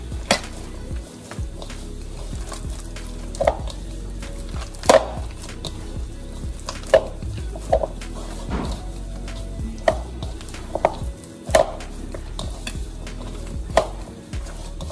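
Glutinous rice dough being kneaded by hand with coconut milk for Vietnamese sweet rice balls, heard as soft, dull pressing and slapping thumps at an irregular rhythm, close and moderately loud with no talking.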